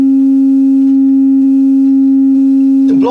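A sine wave test tone plays through a ported ABC subwoofer box, a loud, steady, pure low hum held close and unbroken, with a brief rustle of handling noise near the end.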